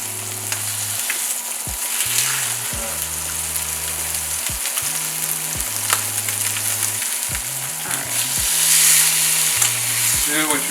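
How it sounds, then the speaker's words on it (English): Seafood sears in an extremely hot pan, giving a loud, steady sizzle and crackle close by that runs the whole time without letting up. "you want to sear each side about like a minute, 2 minutes"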